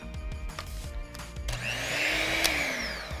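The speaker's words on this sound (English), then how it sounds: "And now we blend." A few clicks and knocks, then a motor whirs up and runs with a rising, steady whine, like a kitchen blender running close by.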